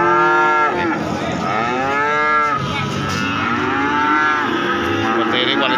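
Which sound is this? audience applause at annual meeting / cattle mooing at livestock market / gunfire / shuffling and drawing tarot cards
cattle mooing at livestock market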